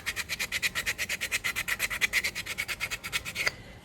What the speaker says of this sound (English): Keep sanding it, sanding.